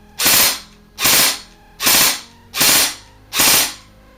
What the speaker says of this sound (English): If we put it in full auto, remember I have this program for 3-shot burst.